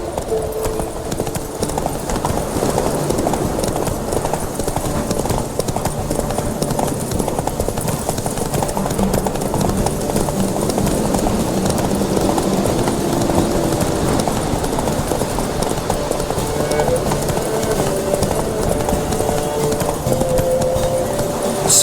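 Horse hooves clip-clop steadily at a gallop through the whole stretch in The Witcher 3, with a continuous rhythmic pounding close by and game ambience underneath.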